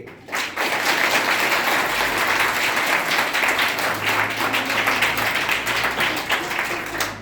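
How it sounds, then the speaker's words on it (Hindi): An audience at a World Hindi Day event applauds loudly, with dense, sustained clapping that runs unbroken for several seconds. "सभी के लिए हम लोग जोरदार ताली बजाएंगे"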